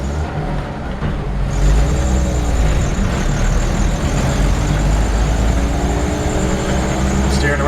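A 1959 Willys Wagon 4x4 without power steering rolling at low speed, its engine a steady close drone with a low rumble throughout, and a voice faintly present over it.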